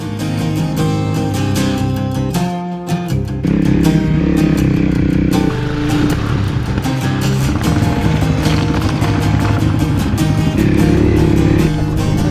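Enduro motorcycle engine on a ride through Georgia, its steady droning roar running continuously and loudly for the whole stretch, blended with music and no speech.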